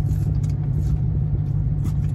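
Dodge Hellcat car driving in track mode, a deep, steady engine rumble heard from inside the cabin, loud and continuous.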